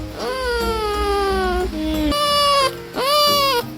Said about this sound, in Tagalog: parang boses ng sanggol ang tunog ng dambuhalang dagang ito na para bang sumasagot sa babae